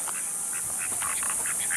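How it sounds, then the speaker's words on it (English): A duck at an Arizona lake quacks in several short, fairly faint bursts over steady outdoor background noise. "Look at this duck here."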